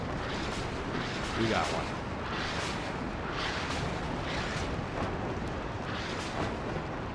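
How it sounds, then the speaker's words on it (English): MLRS rocket artillery in the video game Warno bursts in a rapid, dense string of explosions over a constant roaring rumble, with a voice speaking briefly partway through. "when you have two of them firing at once, it increases the density of the explosions pretty significantly"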